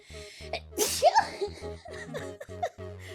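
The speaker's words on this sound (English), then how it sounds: "I have to sneeze" A single sharp sneeze bursts out midway, followed by giggles and laughter, with some voiced sounds before it.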